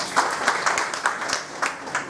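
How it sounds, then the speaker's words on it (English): Members of an EGM meeting audience clap for a team, a short burst of scattered handclaps with distinct individual slaps under a steady patter. "Give them a big hand of applause for that."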